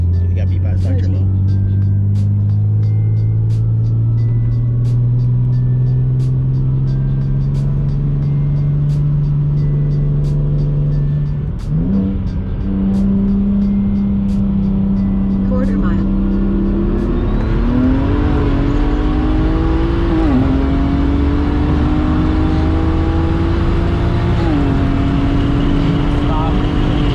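Single-turbo BMW 135i pulls hard through a 60 to 130 mph run, a loud continuous engine drone climbing in pitch with several brief dips at gear shifts, then rising again, alone without talk.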